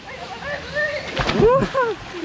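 A loud splash of a person jumping into spring water, with sloshing afterward and excited voices shouting over it.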